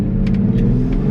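A Jeep engine fitted with a cold air intake rumbles and revs briefly at close range, a steady deep drone with small throttle blips and no talk.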